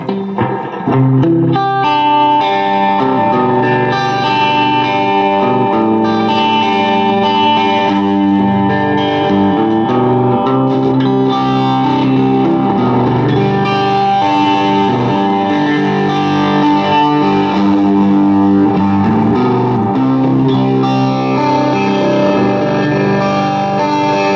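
An electric guitar plays through a Marshall 3203 amplifier with every control fully up, heavily distorted, chords ringing out into a wash of reverb, loud and continuous.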